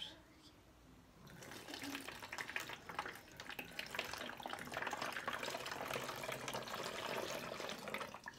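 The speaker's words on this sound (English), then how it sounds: "So we're going to pour in all of this water." Water is poured steadily into a homemade volcano science experiment, a continuous splashing, gurgling pour that starts after a quiet second and runs loud and close to the end.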